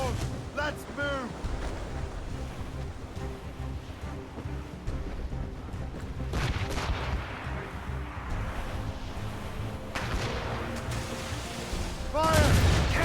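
Cannon fire rings out during a naval battle in Assassin's Creed Rogue, with loud booming volleys over steady sea, wind and ship noise, plus shouted voices in the background.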